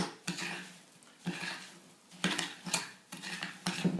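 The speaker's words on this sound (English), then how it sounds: "you just want to start whisking it all together" A whisk stirring a body scrub mixture of sugar, oil and shea butter in a bowl, irregular scraping and clinking strokes in short bursts, close and fairly quiet.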